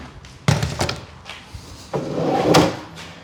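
Drawer boxes are pulled out of a narrow drawer cabinet, giving two clusters of wooden knocks, scrapes and thuds, close and fairly loud with no talking.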